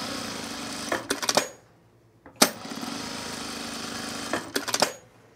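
A sewing machine stitches down a pressed-open side seam on culottes in two long steady runs, each ending with a few sharp clicks and clatters, separated by a short silence, close and loud.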